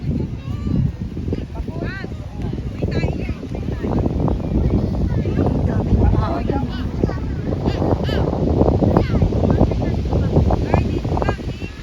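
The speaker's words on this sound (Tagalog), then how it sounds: "Kaya pala ang lakas ng hangin dito eh." Strong wind off the sea at a sandy beach buffets the microphone in a constant low roar while people talk nearby.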